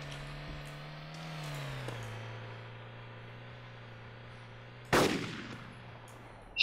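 Gunfire in the military video game ARMA 2: a single sharp, loud shot cracks out partway through over a steady engine drone, and another burst strikes right at the end.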